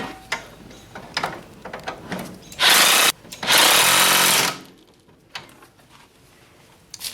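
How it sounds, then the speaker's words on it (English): A power tool tightens the lower fork pinch bolt on an EK-series Honda Civic during CV axle work, giving two loud buzzing bursts of about half a second and a second long, with light clinks and handling noises around them. "Tighten the lower fork pinch bolt"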